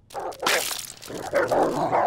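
Cartoon dogs in an animated comedy give short, sharp barks and yips in two bursts, close and loud, with brief scuffling between them.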